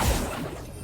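Accio spell cast in Hogwarts Legacy, the video game: a single quick, loud whooshing swish with a low thump at its start, over in under a second.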